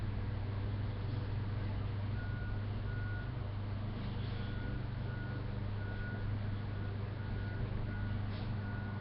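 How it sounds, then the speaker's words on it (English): Faint repeating reverse-alarm beeps from a forklift reversing at a distant Publix store sound over a constant low engine and traffic rumble. "they put the forklift in reverse and it beeps all night long"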